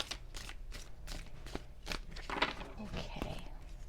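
Tarot cards are shuffled by hand in a steady run of quick papery riffles and soft slaps, close up, about ten strokes over a few seconds.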